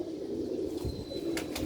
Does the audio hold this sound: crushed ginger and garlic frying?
no